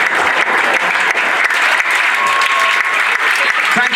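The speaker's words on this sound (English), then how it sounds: "If we can have a massive round of applause, please, once again for all of our players." Dense, steady applause from an awards-night audience honouring a football club's players, close and full for about four seconds with no voice over it.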